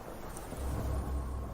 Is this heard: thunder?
yes